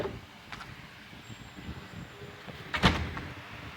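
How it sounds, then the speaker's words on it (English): A side back door of a courthouse is pushed open, a brief clunk and rattle of the latch and hardware standing out near the end over a quiet room. "Let's try this door."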